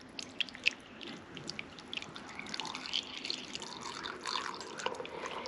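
Hot water is poured over a herbal tea blend in a measuring cup, a soft trickling and dripping splash with small irregular drops, quiet and close, with no talking.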